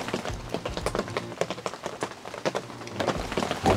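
Rain falling on a hunting blind in Oregon blacktail deer country, with irregular taps and patters striking the surface at close range under a soft, wet wash.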